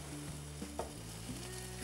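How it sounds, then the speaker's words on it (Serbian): Apple fritter batter fries in hot oil, giving a soft, steady sizzle with a few small pops and a faint hum underneath. No voices. "I pržite kao uštipke s jedne i s druge strane dok ne dobije finu boju."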